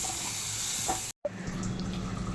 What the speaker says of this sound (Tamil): இந்த ஸ்டேஜில் நம்ம தண்ணி ஊற்றிக்கலாம் நம்ம கிரேவிக்கு எவ்வளோ தண்ணி வேணுமோ அவ்வளோ தண்ணி நம்ம ஊற்றிக்கலாம்